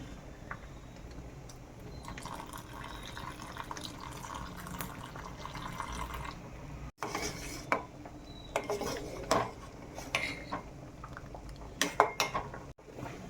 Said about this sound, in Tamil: இப்போ நம்ம பால் சேர்த்துக்கலாம்.